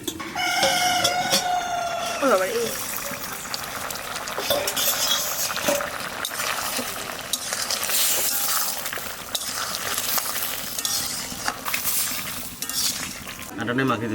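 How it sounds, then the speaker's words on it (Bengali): A spoon clatters and scrapes inside a pot as pumpkin curry is stirred, with the lid lifted first. Steady close kitchen clatter runs throughout, and a rooster seems to crow faintly in the background near the start. "ঢাকনাটা উঠিয়ে দেখি কিরকম জল গলেছে আর একটু নাড়িয়ে দিই"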